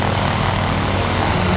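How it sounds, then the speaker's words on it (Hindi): Twin engines of a private propeller plane running together as the second engine starts, a steady loud droning roar with dense low rumble and no break. "ये हो गया दूसरा इंजन स्टार्ट।"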